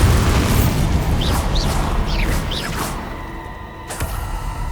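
The Bombarda blasting spell goes off in Hogwarts Legacy with a loud, deep explosive boom, followed by whooshing debris and a rumble that fades, then a small thud near the end.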